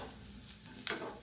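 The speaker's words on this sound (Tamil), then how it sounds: "அமர்த்திட்டு அந்த சூட்லேயே நல்லா வதக்கி விட்டுக்கலாம்." Grated coconut and onion sauté in a hot pan for a green peas gravy, giving a soft steady sizzle with a brief stirring scrape near the end.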